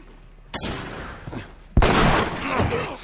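Gunfire crackles through a tense encounter in The Last of Us, a few sharp shots at first and then a loud, dense burst of blasts and thuds near the end, with voices talking over the action.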